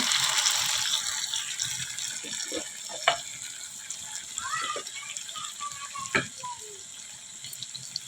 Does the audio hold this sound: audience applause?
no